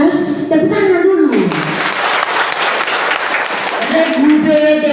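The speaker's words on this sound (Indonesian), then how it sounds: "Tepuk tangan dulu untuk regu C." Students applaud during a school science quiz competition at a senior high school: a burst of dense clapping swells in the middle, with a spoken voice heard before and after it.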